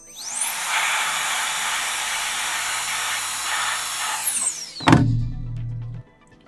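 An air blower sweeps debris from an iPad Pro 12.9-inch 3rd-generation front camera during a screen replacement: a loud, steady rushing hiss that whines up at the start, then winds down sharply and gives way to a low hum, close and alone.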